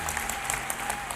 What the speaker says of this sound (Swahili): Pigieni JCM makofi.